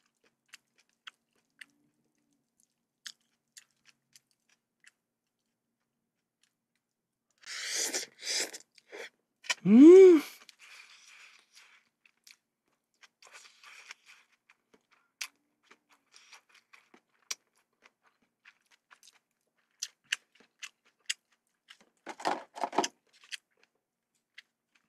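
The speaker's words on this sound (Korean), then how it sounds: "쩝쩝 소리 감사합니다." Food chewed during a mukbang in a quiet room, a short cluster of wet chewing and smacking sounds near the middle, then sparse faint clicks and a second brief burst of chewing later.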